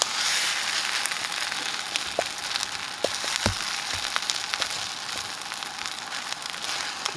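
Steak frying in a pan at a rainy outdoor hammock camp gives off a steady sizzle with scattered sharp pops and crackles, fairly close and even, with no one talking.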